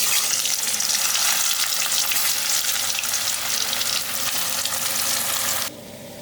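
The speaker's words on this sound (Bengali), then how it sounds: "তেলটা গরম হয়ে গেছে, আমি এবারে আলু ছাড়ছি।" Potatoes sizzle and crackle steadily in hot oil in a wok, a dense loud frying hiss that runs throughout and drops slightly near the end, with no talking.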